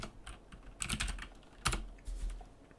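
Computer keyboard typing comes in short bursts of close, crisp key clicks with brief pauses between them, and no one speaks.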